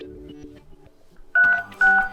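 Two short dual-tone beeps ring out from a myPhone Fun 8 keypad as a secret code is dialed, each clear and close after a quiet stretch of faint handling noise.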